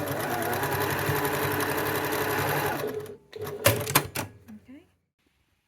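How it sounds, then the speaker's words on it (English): Sewing machine running steadily up close while stitching a double gauze top made from upcycled scarves, then stopping, followed by a few sharp clicks and thumps of handling before silence. "I'm trying to sew and serge this double gauze top."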